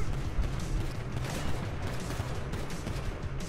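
Gunfire in Grand Theft Auto V: a dense, continuous barrage of distant shots and booms rolling under steady game ambience, with no clear gaps, loud and sustained throughout.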